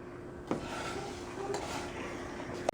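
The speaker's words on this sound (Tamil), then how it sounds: "ஸோ இதை சேர்த்துட்டு நம்ம பால் திரியும் போது சுற்றி நம்ம கலக்கி விட்டுக்கலாம்" Milk curdling with lemon juice is stirred in a pot, giving a steady soft scraping and swishing under a constant background hum, with a couple of sharper spoon knocks against the pot side.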